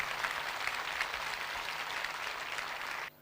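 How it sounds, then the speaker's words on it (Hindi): Congregation clapping loudly and continuously at a church service, a dense wash of applause that cuts off abruptly at the end. "आओ ऐसे खुदा के लिए जोरदार तालियां बजाएं"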